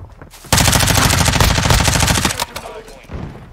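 An MP5 submachine gun in Modern Warfare 2 fires one long, loud, rapid burst lasting about two seconds, close and dense, followed by quieter game sounds.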